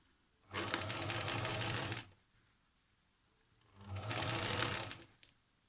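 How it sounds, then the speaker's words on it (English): A sewing machine top-stitches the seams of a fabric face mask: two separate bursts of fast mechanical whirring and clatter, each about one and a half seconds long, with a quiet pause between them, close by. "I'm going to top stitch the seams open, pressing them open as I go with my fingers"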